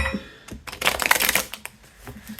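Tarot cards are shuffled in one quick riffling burst of dense paper clicks, close and brief, framed by quieter handling before and after.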